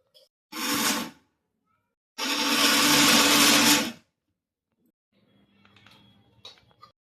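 A kitchen mixer grinder whirs loudly grinding boondi for laddu, a short burst followed by a longer steady run, then quiet rustling and small clatters.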